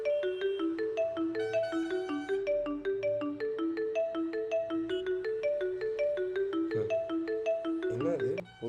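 A mobile phone rings with a bright, repeating melodic ringtone of stepped notes, playing clearly and continuously for several seconds before cutting off.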